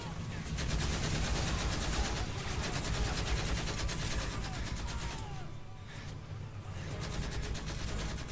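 Sustained gunfire from Call of Duty Modern Warfare 3, a dense, steady rattle of rapid shots that continues throughout with a brief dip near the end, while voices are heard faintly beneath it.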